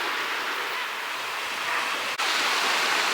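Water washes steadily near rock formations along a tropical Philippine shore, a broad soft hiss of lapping wavelets, close and continuous with one brief dip, and nobody speaking.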